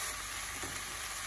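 Ingredients for Scotch broth being stirred in a frying pot, a soft continuous sizzle with faint scraping of the spoon, steady and close, no voices.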